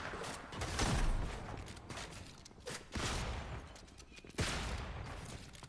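A shotgun fired in a video game, with three loud blasts spaced a second or two apart, each followed by a rough, lingering rumble.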